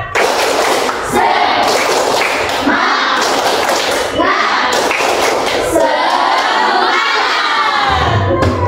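A class of schoolchildren performs a tepuk semangat clapping chant during a maths lesson, with loud rhythmic group claps and shouted voices running together for several seconds, close and energetic.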